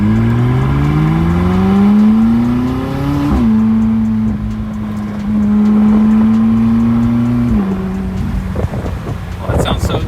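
A classic car's engine at the Woodward Dream Cruise revs loudly close by, its pitch climbing through gears with shifts, a deep continuous rumble filling the whole stretch.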